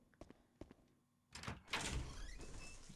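A door opening in a video game: a few soft clicks, then a heavy thunk and a creaking, rumbling swing that fades out. It is quiet and sounds close, with no talking.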